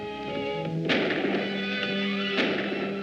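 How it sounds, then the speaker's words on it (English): Gunfire in an old black-and-white movie serial, with two sharp, loud shots about a second and a half apart ringing over a sustained musical soundtrack. "There's gunplay."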